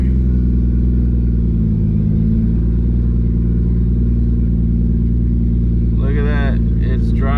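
Toyota Supra MKIV engine running close by while the car is put into reverse: a steady, deep, rumbling drone throughout, with a brief voice-like sound near the end.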